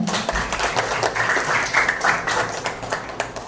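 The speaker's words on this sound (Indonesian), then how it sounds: "Tepuk tangannya dong." A class of schoolchildren claps together in a school setting, a dense, steady burst of hand clapping that fills the room for several seconds.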